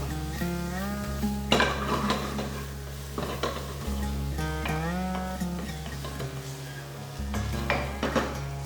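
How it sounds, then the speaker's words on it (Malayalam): Browned onions and tomato sizzle in a pan for a toddy-shop style Kerala beef roast while a metal spoon scrapes and stirs in repeated strokes over a steady background hum. "ഇതിലേക്ക് നമുക്ക് ഒരു കഷ്ണം തക്കാളി ഇട്ട് കൊടുക്കാം. നമുക്കൊന്ന് വഴറ്റി കൊടുക്കാം."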